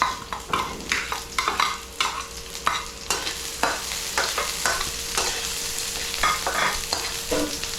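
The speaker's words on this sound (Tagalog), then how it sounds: "Yan guys, lagay na natin yung sibuyas." Onions sautéing in a pan with garlic for a corned beef dish, with a steady sizzle and repeated scraping stir strokes at close range, and no voices.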